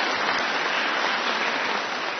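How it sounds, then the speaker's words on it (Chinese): An audience applauds after a live demonstration at a 2019 artists' celebration in Taiwan, a dense, even patter of many hands clapping throughout with no voices over it. "我们这是在以热烈掌声谢谢陈师傅"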